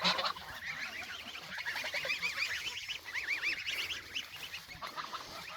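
A flock of farm geese honks continuously nearby in a garden area, overlapping nasal calls rising and falling in a busy, noisy chorus.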